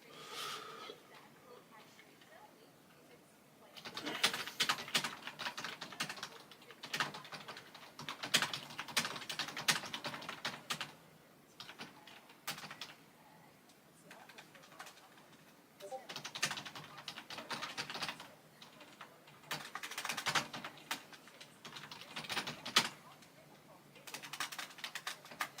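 Bursts of rapid typing on a computer keyboard, alternating with quieter pauses, fairly close and steady, with a person occasionally talking nearby.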